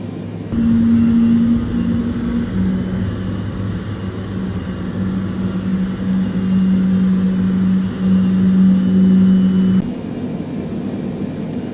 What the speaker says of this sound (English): just gonna wait for the engines to start